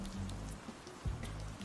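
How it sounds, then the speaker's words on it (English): Soft rain ambience in the Camp Buddy video game, a quiet, steady patter of rain falling on surfaces with a faint low hum underneath and no other clear sounds. "The rain outside is only making it more humid."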